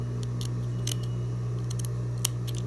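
Scissors trim excess fabric from a homemade face mask, producing several quick, sharp snips over a steady low hum.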